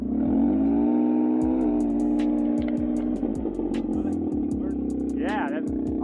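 A Can-Am Ryker fitted with an RLS Mouse Gunner exhaust revs hard up close, a loud throaty drone with sputtering crackles and burbles as the throttle drops, while a voice speaks briefly over it.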